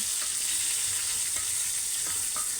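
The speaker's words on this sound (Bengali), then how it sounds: "বেগুনটা উল্টাই দিতেছে" Local eggplant slices fry in a hot pan and are turned over, giving a steady, loud, close sizzle that runs throughout with no voices.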